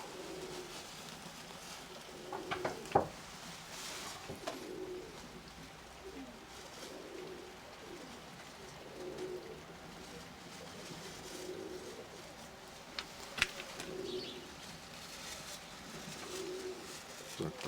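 Pigeons cooing softly at a distance in a rainy, windy setting, a series of low rounded coos repeating every second or so over a steady wash of rain, with a few sharp knocks and a brief voice.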